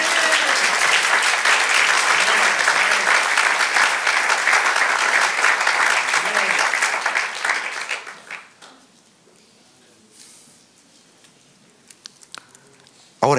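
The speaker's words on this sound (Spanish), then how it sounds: "Ahora denle un aplauso al Señor." A church congregation claps loudly and steadily for several seconds, then the applause thins out and fades, leaving a few scattered claps and small noises in near silence.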